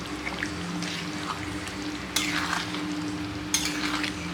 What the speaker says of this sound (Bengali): হালকা করে নাড়াতে হবে, একদম আস্তে আস্তে নাড়াতে হবে।